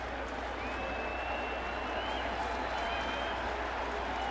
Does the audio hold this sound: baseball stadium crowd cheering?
yes